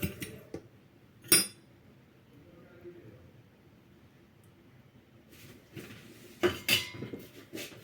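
Egg and flour being stirred for soft milk bread dough, heard as a few sharp clinks and scrapes of a utensil against a bowl, spaced apart with quiet gaps between them.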